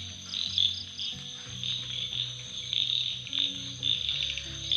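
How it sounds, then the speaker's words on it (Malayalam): Frogs croaking at night near a newly built backyard pond beside a bird aviary, a dense continuous chorus of overlapping croaks mixed with high shrill insect chirping, steady and fairly close. "ഫുൾ തവളകളാണ്."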